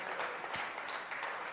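An audience claps together in a room during a talk about a fighting competition. The applause is a short, steady patter of many hands, fairly close, with no voices over it.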